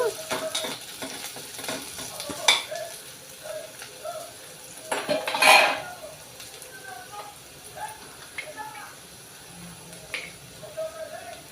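Ivy gourds (tindora) fry in a pan for a peanut and chilli stir-fry, a light sizzle broken by scattered spatula scrapes and clinks, with a voice talking intermittently over it.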